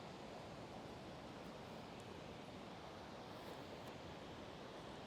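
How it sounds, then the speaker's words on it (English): Ocean waves at an oceanfront yoga studio make a steady, faint wash of surf, a continuous broadband hiss with no distinct breaks and nobody speaking. "So just take a second to soak up the sound of the ocean."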